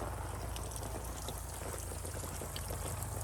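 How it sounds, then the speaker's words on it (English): Water running steadily onto onion and broccoli beds in a farmstead garden, a continuous broadband rush and patter with no pauses. "I do have water to the onions here now, and water to the broccoli down there."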